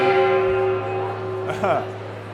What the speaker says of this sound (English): the gong, I love it